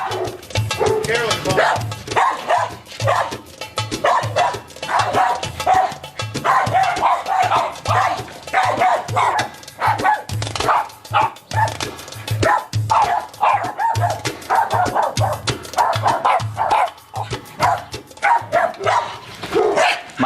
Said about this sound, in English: The dog is already barking.